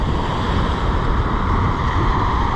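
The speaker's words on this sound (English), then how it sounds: "The waves sound great to me though, and I'm getting splashed." Ocean waves wash in a steady roar while wind buffets close by, loud and unbroken.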